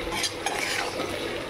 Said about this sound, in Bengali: তো আমি এখন আলু ভাজছি,